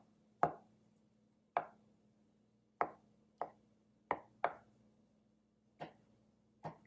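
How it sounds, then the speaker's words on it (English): A kitchen knife chops through mushrooms in eight sharp, close knocks at an uneven, unhurried pace, with no talking over them. "I'm just chopping up mushrooms,"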